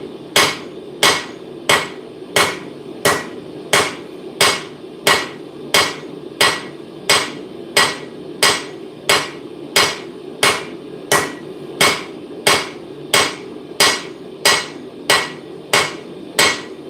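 Steady hammer blows on hot steel while forging a chisel-ground knife at a smithing forge, roughly one sharp ringing strike per second, loud and close, with no talk.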